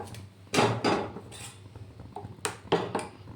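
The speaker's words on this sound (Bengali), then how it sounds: "একটু কাগজে তেল নিয়ে এরকমভাবে কড়াইটা মুছে দিলাম" Oiled paper scraping and wiping around the inside of a metal wok, a few close scuffing strokes with light metallic knocks in two small clusters, with no talking.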